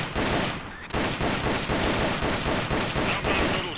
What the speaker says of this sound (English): Ready your weapon with LT, then press RT to fire.